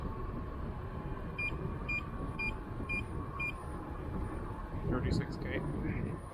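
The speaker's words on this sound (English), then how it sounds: "Hearing the beeps." A short series of five regular electronic beeps sounds during a night bike ride through Stanley Park, over steady road and wind rumble, followed by a brief louder chirp.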